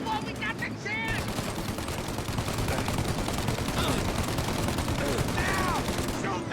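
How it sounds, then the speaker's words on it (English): Shootout gunfire in Mafia Definitive Edition, dense continuous rattling shots and ricochets with bursts overlapping, loud and sustained over several seconds, with voices shouting underneath. "Shoot out your gun when there's a break in the fire!"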